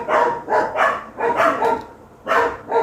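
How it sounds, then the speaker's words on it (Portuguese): Small dogs bark in short repeated bursts, some yips mixed in, fairly loud and nearby, with no one talking over them. "Tem uns cachorrinhos latindo aqui"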